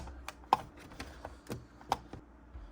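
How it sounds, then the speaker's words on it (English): Sharp plastic clicks and snaps at an irregular pace, close up, as the keyboard of a Dell Latitude CPi laptop is pried loose. "Let's get the keyboard up."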